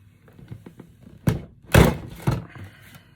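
A few soft taps, then two heavy, sharp thunks of a punch pressing through a book cover, close up on a flimsy desk.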